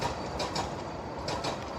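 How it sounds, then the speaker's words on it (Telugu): A train passing close by, a steady broadband rumble with rhythmic clatter swelling and easing throughout, with no voices. "ట్రైన్ వెళ్ళిపోయింది రా."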